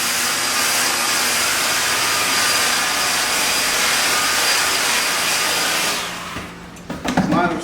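A handheld hair dryer blows loud and steady at close range, a broad rushing whoosh that cuts off near the end, followed by brief handling clatter.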